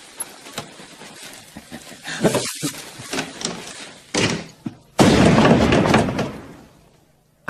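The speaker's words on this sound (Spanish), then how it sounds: "¿Explosión más grande?" A gunpowder blast in a western film: scattered thumps and knocks lead up to a sudden loud, broadband explosion that sustains for about a second and then fades away.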